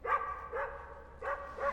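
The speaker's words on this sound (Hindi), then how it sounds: "सर आपने कोई नया कुत्ता पाला है? Is it a Pomeranian? Bulldog है।" A bulldog barks four times in quick succession, the barks moderately close and fairly quiet, with no talking over them.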